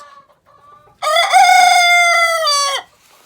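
A single loud, close rooster crow rings out for about two seconds after a few quiet chicken noises in a coop, then quiet returns.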